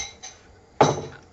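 A spoon clinks against a bowl while cheese is stirred: a soft tap, then a sharper metallic clink followed by a brief rattle, close and alone.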